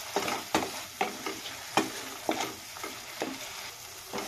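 Masala with bay leaves is sautéed in a hot pan, with regular spatula scrapes and knocks, roughly one every half second, over a soft background sizzle, close by and without talk.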